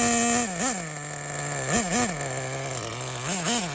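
A Losi XXXNT nitro RC truck engine, run for the first time in about 20 years, idles with a nasal buzzing whine. Several short blips rise briefly above the steady idle, close and fairly loud.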